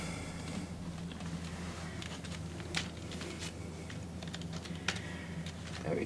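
Quiet clicks on a computer keyboard, a short run of light key presses spread unevenly over several seconds against a low background hum.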